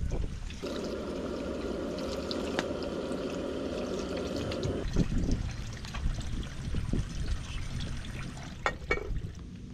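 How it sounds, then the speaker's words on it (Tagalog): Water gushes steadily into a pot of bulalo, a Filipino beef soup, for about five seconds, then gives way to quieter splashes, clinks and handling noises at close range. "Lagyan na po natin ang tubig."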